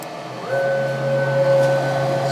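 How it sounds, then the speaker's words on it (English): A CNC machine travelling back to its home position, a steady whining motor tone that starts after a short pause and holds evenly, close and moderately loud. "you can see the machine is moving"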